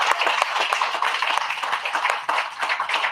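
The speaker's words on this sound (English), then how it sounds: "let's give her a round of applause" A short burst of applause, many hands clapping densely and continuously from a small crowd, with no voices over it.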